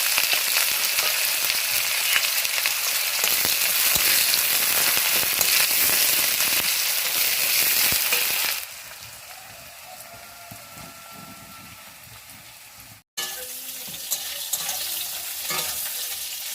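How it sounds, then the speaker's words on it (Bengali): Greens frying with dried chili and onion in a pan, a loud, steady sizzle for about eight seconds, then quieter stirring and crackling after a brief break. "শুকনো লঙ্কা আর পেঁয়াজ দিয়ে শাকটা ভাজবো।"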